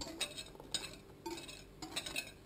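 A utensil scrapes and clinks against a saucepan in repeated strokes, stirring a boiling egg, flour and sugar mixture, soft and close, with no voices.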